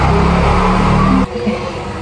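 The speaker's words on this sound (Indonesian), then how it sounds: "tadi ada suara motor kenceng" Loud motorcycle passing close by outdoors, a throaty engine roar that cuts off abruptly partway through and gives way to quieter background noise.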